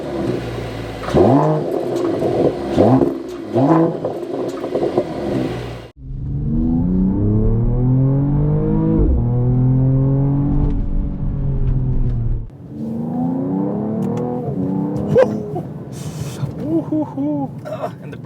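A 2021 Mercedes-AMG E53 4Matic in sport mode with the exhaust open revs and accelerates, its engine note climbing through rising gear sweeps, loud and close, with a voice briefly heard early on.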